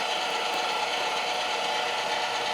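An electric meat grinder pushes cold meat through a coarse die on a second pass, giving a steady, loud, continuous motor whir with a rough grinding texture throughout.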